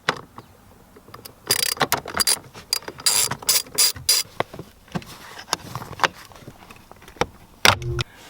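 Small T4 bolt being loosened with a ratcheting tool to free the pedal in a VW Golf/GTI footwell, giving bursts of quick ratchet clicks and mechanical rattles, close and fairly loud, with pauses between runs.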